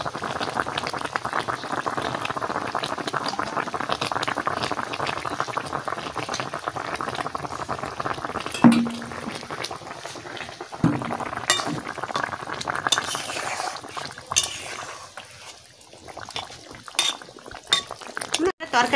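Fish curry gravy bubbles steadily in a pot, a continuous close simmering hiss broken by occasional clinks of utensils and stirring, with soft talk at times.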